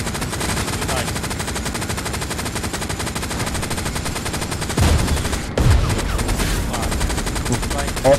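Loud, sustained machine-gun fire rattles in rapid bursts during a tank-crew battle in the WWII shooter game Hell Let Loose, with a brief heavy blast partway through.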